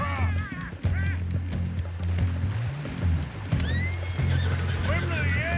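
Horse in the video game Red Dead Redemption 2 neighs and whinnies repeatedly with rising, wavering cries, with hoofbeats and rushing river-rapids water and a steady low game tone underneath, while a voice talks over it.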